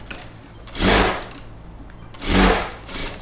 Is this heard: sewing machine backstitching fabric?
yes